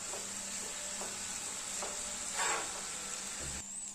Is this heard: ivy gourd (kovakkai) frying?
yes